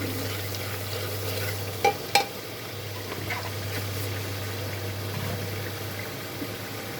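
Mixed vegetables with turmeric sauté quietly in a pan, a low steady sizzle with soft stirring and two sharp spatula knocks close together near the start.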